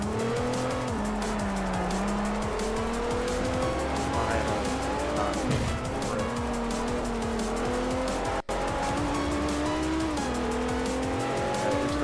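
A race car in Forza Motorsport 4 slides through a corner with a long, sustained tire squeal over a steady, loud engine whine that rises and falls with gear changes, running continuously throughout.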